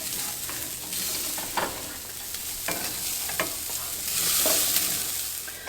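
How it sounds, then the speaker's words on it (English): Rice fries in a pan with salt for chile colorado with rice and beans, a continuous hiss under repeated scraping and stirring strokes of a spoon, which swell louder near the end. "So while we fry our rice"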